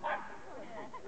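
A small dog yips and whimpers in short, high bursts at close range, with the loudest yelp at the start and softer whines trailing after.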